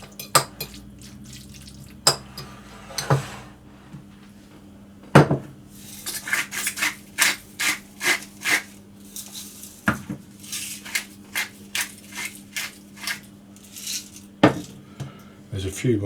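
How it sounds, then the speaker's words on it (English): A spoon stirs salt and pepper through a savoury egg tartlet mixture in a bowl, giving soft scraping and taps against the dish. The clinks come in uneven bursts and include a few sharper knocks, with a low steady hum underneath. "And stir that through, and then do the same with the egg mixture"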